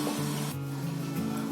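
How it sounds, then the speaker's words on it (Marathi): Water splashes into a hot pan of cabbage and carrot, making a short hiss and sizzle up close with no talking. "आता मी याच्यामध्ये आहे ना थोडं पाणी टाकते आणि वाफेवर ठेवते"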